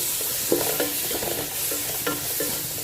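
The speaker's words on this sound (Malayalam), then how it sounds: "എണ്ണയിലിട്ടിട്ട് ചെറുങ്ങനെ ഒന്ന് വഴറ്റിയെടുക്കുക" Onions sauté gently in hot oil, sizzling steadily and fairly loudly while a spoon stirs and scrapes the pan at irregular intervals.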